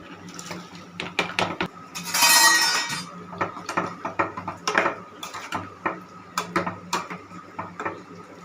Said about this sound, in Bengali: এবার আমি চাল কুমড়োটা দিয়ে দেবো।